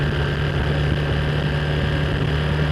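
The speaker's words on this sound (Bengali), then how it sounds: "জীবনে প্রথমবার বাইক টানতেছি" A motorbike engine runs steadily throughout while being ridden near the sea at Kuakata, giving a loud, continuous low hum with a constant tone and no speech.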